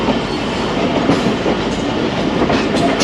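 Passenger train rolling into Mirpur Khas railway station, loud and close, with steady rumbling and clickety-clack of wheels over rail joints, faint squeal hints, no talking.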